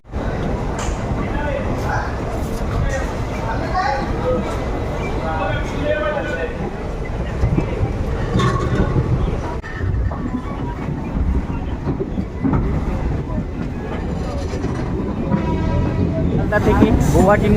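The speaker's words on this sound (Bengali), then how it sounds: "একদম ছেড়ে দিল শিয়ালদা রেলওয়ে স্টেশনের চোদ্দো নম্বর প্ল্যাটফর্ম থেকে কাঞ্চনজঙ্ঘা এক্সপ্রেস" Kanchanjunga Express pulling out of platform 14 at Sealdah station, a steady rumble and rattle of rail cars rolling on beneath continuous talk.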